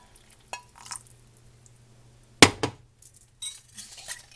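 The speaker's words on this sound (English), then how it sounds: "Got a little whisk. I'm going to add part of this broth." A small whisk knocks and scrapes in a pot as broth goes into turkey pot pie filling, with sparse clinks and one sharp clatter among brief swishing stirs.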